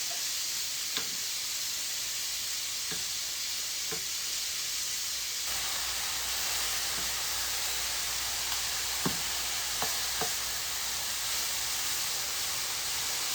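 Broccoli charring in brown butter in a pan, giving a steady soft sizzle and hiss with a few faint clicks and taps of stirring throughout, no voices.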